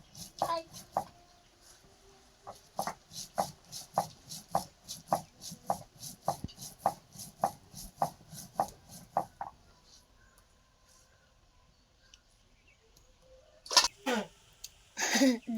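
Cumin and black pepper ground by hand on a grinding stone, a near, rhythmic series of regular knocking scrapes for several seconds that then stop, followed by a few louder handling sounds.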